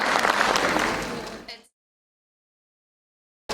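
Parents at a preschool class presentation clap for UKG students, a dense round of applause that fades out and cuts to silence, then resumes abruptly at the very end.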